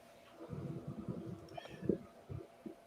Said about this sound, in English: No, it was a cat.